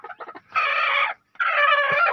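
Chickens and a rooster at a Pakistani village coop let out a few quick clucks, then two long loud squawking calls separated by a short gap, close by.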